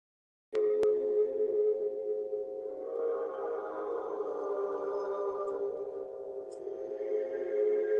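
A sustained hummed meditation chant, a steady low drone held at an even pitch for about eight seconds, close and moderately loud, with no spoken words.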